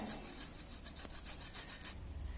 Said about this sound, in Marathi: इथे एक अशी बारीक खिसणी घ्यायची आणि त्या बटाट्याला काय करायचं आपण असं खिसून घेणार आहोत